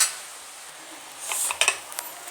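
A metal cooking pot for hand-mixed beef is covered with its lid and set on the stove, giving a few light clinks and clatters after a quiet stretch.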